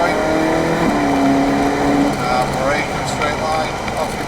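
A supercar accelerating steadily around the Three Sisters race track in Wigan, its engine droning and rising in pitch under a driving instructor's continuous spoken coaching.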